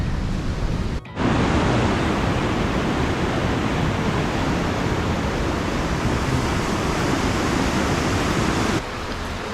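A woodland stream in Glacier National Park rushing steadily, a loud continuous broadband wash of flowing water that stays close and unbroken, with a brief dip near the start.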